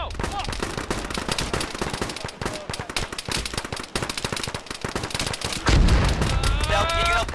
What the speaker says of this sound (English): We got guys like fucking shooting at us.